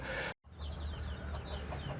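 Chickens clucking and calling on a Thai poultry farm, a steady chorus of short bird calls over low barn noise after a brief dropout at the start.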